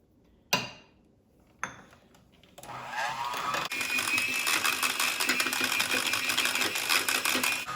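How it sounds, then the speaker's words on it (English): Electric mixer whirs steadily as soft butter and sugar are creamed together for a galette des rois, preceded by a couple of sharp clinks and clatters of utensils against the bowl. "we're going to start mixing the butter. It has to be very creamy. And we add the sugar"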